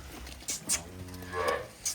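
A cow at a cattle sale moos in a low, drawn-out call, close by, with a few sharp knocks and rustles around it.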